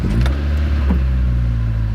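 An older, high-mileage Honda car from the north running after start-up, a steady close idle hum with a few brief clicks near the start, no talk.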